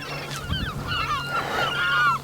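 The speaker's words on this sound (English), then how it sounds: "Look at all those birds, the seagulls." Seagulls calling over the coast on a walking trail between Monknash and St Brides Major, a flock of overlapping harsh, squealing cries, some near and some farther off, running throughout over a steady low hum.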